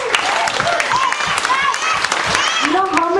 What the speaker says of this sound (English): let's give this company a big round of applause again